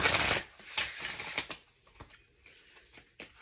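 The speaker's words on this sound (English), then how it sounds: "And shuffle one more time and we'll do our future." Tarot cards are shuffled by hand, a close, papery riffle that starts in a loud burst and then trails off into lighter flicks and taps, with no talking.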